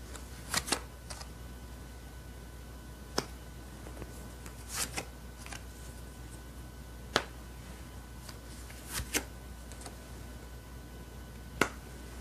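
Tarot cards being handled and drawn in a quiet room: sparse, crisp snaps and flicks of cards scattered irregularly over a faint low hum, close and isolated.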